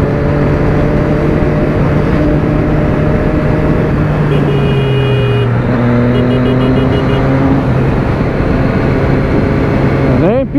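A motorcycle engine revs and accelerates continuously up close on a street ride, its pitch rising and shifting through gear changes, loud and steady throughout.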